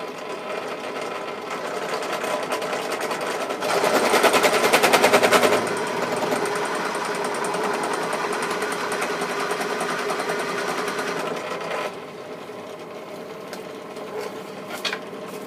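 A bench drill with a larger bit bores 3 mm deep into a free-hand routing base, giving a continuous close motor whine with a rattling buzz that swells louder for a couple of seconds and then drops lower near the end.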